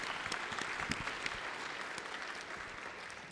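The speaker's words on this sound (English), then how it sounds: "Can we all give her a round of applause?" Applause in a state House chamber during a legislative session, a dense sustained clapping from the gathered members that fades slightly toward the end.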